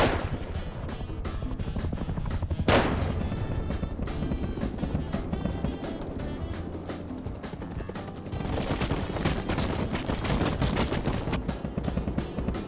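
Rapid video game gunfire in dense bursts, with machine-gun-style volleys that keep going almost without a break and one loud blast near the start, all mixed with heavy effects noise.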